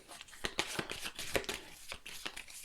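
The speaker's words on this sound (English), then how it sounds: "The remaining cards you shuffle" A deck of playing cards for the Imperium board game is shuffled by hand close up, with quick riffling bursts and soft card snaps in an uneven rhythm, no talking.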